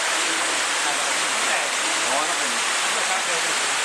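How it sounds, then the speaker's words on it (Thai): Steady, dense rain hiss fills the scene without a break, a loud even wash of falling water close by, heard from a cave entrance in a wildlife sanctuary. "วันนี้ฝนตก เป็นที่หลบฝนไปในตัวนะ"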